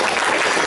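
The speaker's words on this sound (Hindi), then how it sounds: "Give God also a big hand." A brief burst of dense clapping from a church congregation, steady and fairly loud throughout.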